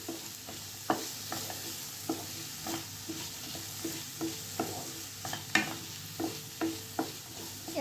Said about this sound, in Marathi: आता कांदा जो आहे तो आपल्याला छान असा भाजून घ्यायचा आहे